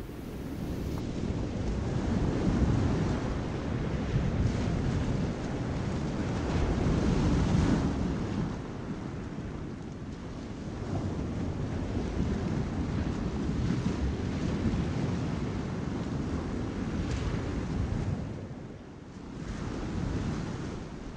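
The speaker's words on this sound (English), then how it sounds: "listen to the rhythmic sound of the waves breaking on the shore" Ocean waves roll and break on a beach shore in slow, rhythmic surges, a continuous wash of surf with wind rumbling across the microphone and no voices.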